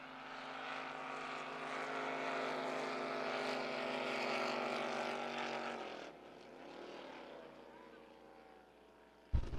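Drag racing boat engine at a San Angelo June finals race, a loud sustained roar with a steady droning pitch that cuts sharply around six seconds in, leaving a lower rumble before a sudden loud burst at the end.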